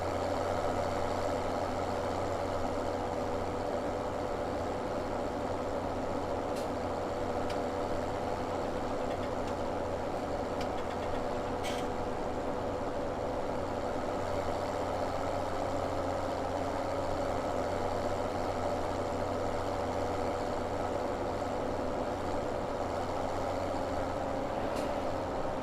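Steady tractor engine drone from Farming Simulator 2017, pulling a mower along a field edge to form a headland; an even, continuous mid-low hum runs throughout with no speech over it.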